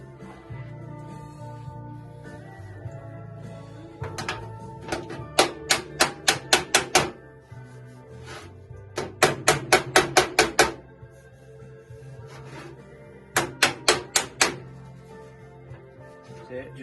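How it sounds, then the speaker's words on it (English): A hammer taps metal flat on a car door frame in quick bursts of sharp ringing strikes, several clusters of five or six hits, close by over a low hum. "Just tap them flat so they're flush"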